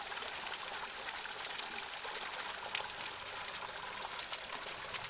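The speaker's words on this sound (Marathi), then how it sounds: "डोंगरातून स्वच्छ पाणी आहे." Clean mountain water flows steadily near a temple at Kunkeshwar in Malvan, a broad, even rushing and trickling hiss that fills the whole stretch without pause, close by and with no voices.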